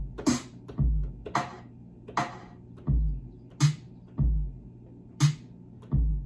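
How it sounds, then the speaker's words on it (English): Lo-fi hip hop drum beat with a squashed, processed snare, giving a slow, steady groove of deep kick thumps and crisp snare hits, close and dry with no voices. "So that snare sounds good."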